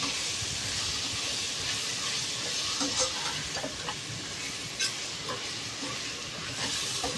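Salt and turmeric are stirred into a hot pan for chicken biryani, giving a steady loud sizzle with a hissing, steamy frying sound and occasional scraping strokes, with no talking.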